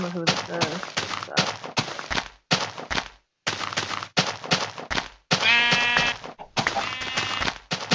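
Sheep in early Minecraft bleat repeatedly in short separate calls, loud and close, with a voice talking between and over them.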